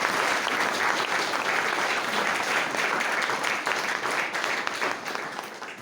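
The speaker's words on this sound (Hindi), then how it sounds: "बहुत जोरदार तालियां एक बार।" Loud, dense applause from an audience at a theatre performance event, sustained steadily throughout and easing slightly near the end, with no talking over it.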